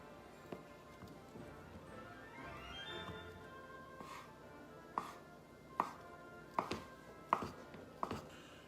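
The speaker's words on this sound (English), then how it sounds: "Now we'll cut our mozzarella into cubes." A knife chopping mozzarella into cubes on a board, heard as a few sharp, separate knocks that grow more regular and slightly louder toward the end, over a quiet kitchen background.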